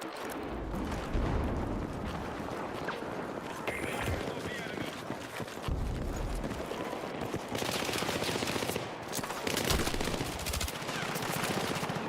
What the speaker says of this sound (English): Oh, he's on a machine gun.